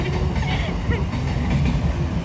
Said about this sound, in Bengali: ওদিকে ট্রেন যাচ্ছে